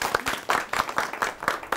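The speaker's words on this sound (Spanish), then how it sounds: "Un aplauso para todos ellos." A church congregation at a Spanish-language Mass in the Christmas season gives a short burst of applause: uneven, close clapping from many hands with a loose rhythm.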